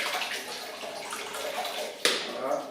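Water pours steadily into a mixing bowl for no-knead baguette dough, giving a continuous splashing rush that ends with a brief knock.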